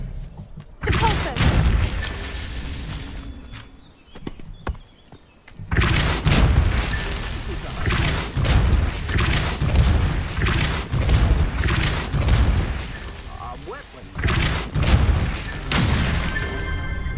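Repeated spell blasts from Expelliarmus and Depulso in the Hogwarts Legacy video game crack and boom in quick succession, loud and close. There is a short lull, then more rapid impacts and crashes.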